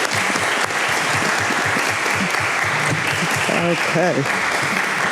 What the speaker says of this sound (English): Now, applaud.